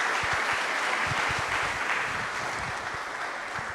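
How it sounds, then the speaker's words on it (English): A seated audience at a small business summit pitch competition gives a sustained round of applause for award winners, steady dense clapping throughout with no talk over it. "Let's give one more round of applause for both our award winners as well as our pitch competition winner."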